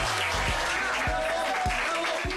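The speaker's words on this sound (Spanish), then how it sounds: "aplauso." Audience applause greeting a singer as she arrives, a steady dense wash of clapping with a few low thumps cutting through it, continuous and fairly close.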